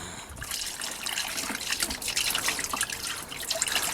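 Water splashes and trickles continuously as a car's diesel particulate filter is rinsed out in a workshop, a close, steady wash with sloshing and dripping.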